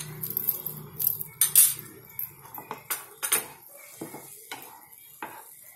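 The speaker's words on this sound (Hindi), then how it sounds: "अब मैं इसमें 2 चम्मच अमूल क्रीम डाल रही हूँ।" Two spoonfuls of Amul cream going into a pan of simmering paneer gravy, heard as a series of close metallic spoon clinks and taps against the pan with brief pauses between them.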